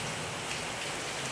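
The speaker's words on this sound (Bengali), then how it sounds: "প্রচুর বৃষ্টি হচ্ছে প্রচুর" A short burst of heavy rain, a constant close hiss of water drumming on surfaces with no voices.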